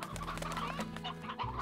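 Chickens cluck steadily in the Slime Rancher video game, a close, continuous burble of fowl sounds over a low background hum.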